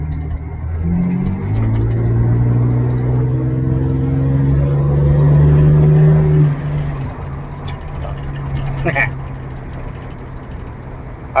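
Corvette engine accelerating through smooth gear shifts, a rising mid-range drone with pitch climbing and dropping at each shift, fairly loud and close, then settling into a quieter hum after the run.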